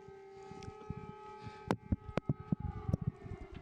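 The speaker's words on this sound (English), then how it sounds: "we can hear those air raid sirens" A steady, sustained air raid siren tone holds in the background, overlaid by sharp clattering knocks and bumps that grow busier toward the end.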